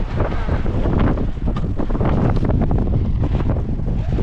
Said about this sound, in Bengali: দেখুন কি হাওয়া দিচ্ছে